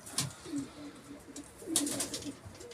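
Domestic pigeons coo low and soft in an attic loft in Karamürsel, Yalova, in a steady murmur of overlapping calls with a few sharper flutters or scuffs.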